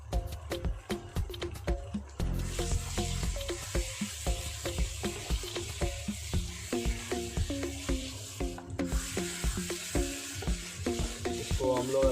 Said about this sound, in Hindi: अभी इसमें हम ये हल्दी नमक मिला हुआ चिकन को डाल दे रहा हूँ। डाल के हम इसको भून लेंगे